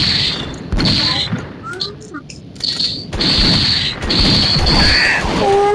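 Sniper rifle shots fire in a video game, sharp loud cracks that stand out against game noise and someone talking over them.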